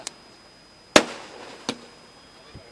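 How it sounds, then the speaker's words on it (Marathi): Firecrackers and fireworks greet arriving guests at an SDP Trophy cricket match in Raigad: four sharp, loud bangs, the second the strongest with a crackling tail, the rest shorter and fainter, spaced about a second apart, with no talking. "फटाक्यांच्या आतषबाजीमध्ये पाहुण्यांचं स्वागत"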